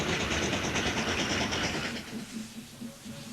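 Steady clickety-clack and rumble of a train running on the Somerset and Dorset railway, downhill south of Masbury, loud and close for about two seconds before easing to a softer, lower roll.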